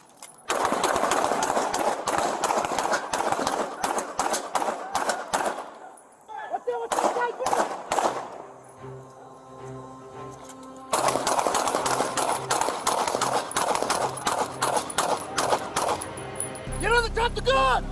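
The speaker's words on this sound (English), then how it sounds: "Shots fired, OIS!" Rapid, loud volleys of gunfire crack repeatedly during a police shootout, pausing briefly while people shout, then resuming in another dense burst of shots.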